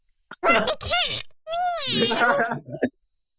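A person imitates a meowing cat with their voice, giving two drawn-out, wavering meow-like calls that rise and fall in pitch, close and clear with a short pause between them.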